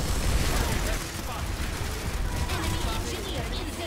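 Enemy gunfire in a shooter video game rattles as dense, rapid bursts over a steady roar of battle, continuous and fairly loud throughout.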